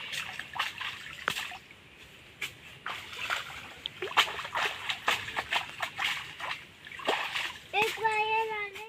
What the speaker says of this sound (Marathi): आता आई ते धुते पाण्यात